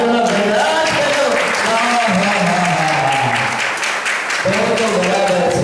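Sustained applause from an audience during a Parshva Padmavati puja, dense clapping running loud and continuous throughout, with a voice speaking over it.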